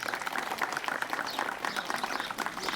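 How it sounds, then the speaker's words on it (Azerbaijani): A crowd applauds students at a school results ceremony, with dense, steady clapping that holds at a moderate level throughout, slightly distant and without a clear break. "Bu şagirdlərimizə ürəkdən alqışlayaq."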